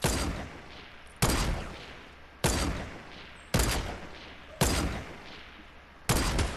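Gunfire in the Fortnite video game cracks out as six loud, evenly spaced single shots, each one trailing off into a long echoing decay before the next.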